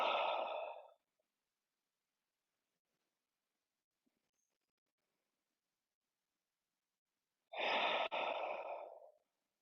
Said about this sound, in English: Taking some deep breaths here, allowing the body to settle.